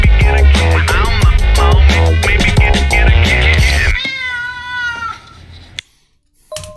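A cat meows in a rap track: after loud rap music cuts out, a close, drawn-out meow sounds, followed by a brief fainter noise and near silence.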